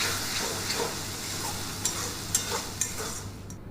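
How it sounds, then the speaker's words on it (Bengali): Spice paste for a fish curry sizzling in oil as it is sautéed, a continuous close fry with several sharp spatula scrapes and taps toward the end. "তো দেখুন মশলাটা কিন্তু খুব সুন্দরভাবে কষানো হয়ে গেছে, এবার কিন্তু তেল ছাড়তে শুরু করে দিয়েছে।"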